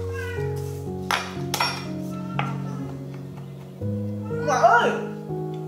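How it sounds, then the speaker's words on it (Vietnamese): A stray cat found in a garage meows several times, short sharp cries scattered over a few seconds, heard close over a steady tonal background with faint kitchen clatter. "Con này là con Beo. Cái con mèo Beo này á, là mình nhặt nó được ở ngoài nhà xe Thành Bưởi đó các bạn."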